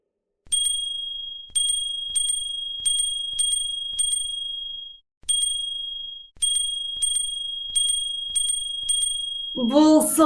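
A small yellow handbell chimes repeatedly in an even, bright rhythm of crisp dings, each fading quickly, with one longer gap partway through. A short burst of voice or noise comes in at the very end.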